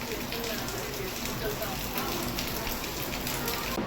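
Steady rain falls and patters on a surface throughout, a dense continuous hiss with no break.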